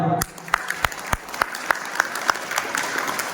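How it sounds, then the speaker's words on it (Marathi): An audience at a public lecture claps in a steady, fairly even rhythm, about a dozen distinct claps close by, with no voices over it. "तिच्यासाठी एकदा टाळ्या वाजवा"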